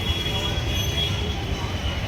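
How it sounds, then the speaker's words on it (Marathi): A small park toy train rolls along its rail track nearby, a steady rumbling clatter with faint wheel squeal, continuous and fairly loud. "हा रेल्वे ट्रॅक आहे, जी आपली टॉय ट्रेन जाते"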